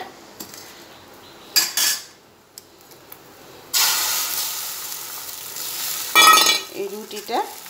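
Stale flatbread cooking with egg in a pan: utensils scrape and clatter against the pan amid bursts of sizzling frying, loud and close, in uneven spurts with quiet gaps between.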